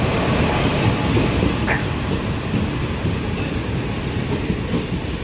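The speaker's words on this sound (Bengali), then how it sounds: "অবশেষে ফাইনালি আমাদের ট্রেনে চলে আসলো।" A train pulls into a station platform, a loud continuous rumble of rolling wheels and carriages with faint clatter and a brief squeal, filling the whole span without talk.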